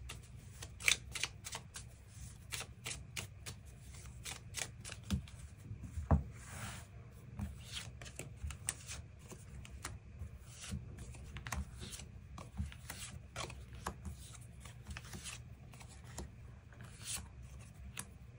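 Tarot cards are shuffled and drawn for a weekly reading, a soft continuous rubbing and riffling with many quick crisp flicks and taps, close and quiet, with no voices.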